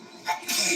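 A single quick sneeze, a short intake followed by a sharp, breathy burst, heard close up.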